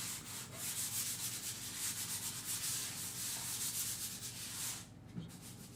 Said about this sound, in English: This is a very fine sandpaper. This is a number 320.